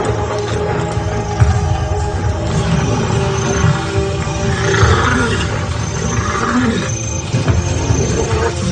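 Male lions roar in a deep, continuous display of power and dominance. The sound is loud and rumbling, with overlapping growls that rise and fall over several seconds.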